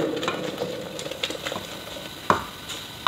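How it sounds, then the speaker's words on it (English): Thick blended potato pours and plops into a cooking pot, giving a soft wet patter and a few sharp knocks of a spoon against metal, with no voices. "So I am going to turn in our blended potato."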